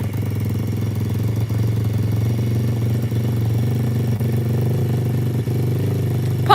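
A custom RFZ dirt bike engine runs for the first time after startup, idling loudly and steadily up close with a low, even rumble and slight clatter, nothing else heard over it.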